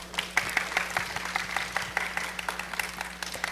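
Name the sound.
audience applause for the researcher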